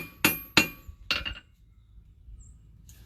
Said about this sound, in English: Doing this and then flattening it back out on the anvil.